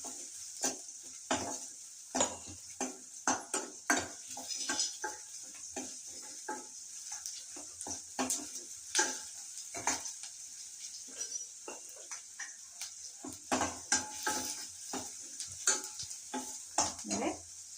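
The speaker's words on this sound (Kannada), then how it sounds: "ಇದನ್ನು ಸ್ವಲ್ಪ ಎಣ್ಣೆಯಲ್ಲಿ ಫ್ರೈ ಮಾಡೋಣ" Two chopped onions frying in a little oil in a pan, a soft continuous sizzle broken by frequent rhythmic scrapes and stirs of a spatula, close and moderately loud, with no talking.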